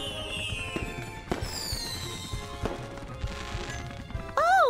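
Fireworks explode in a rapid series of sharp bangs and crackles, with whistling rising and falling tones trailing through the sky, loud and close, and a bright warbling tone near the end.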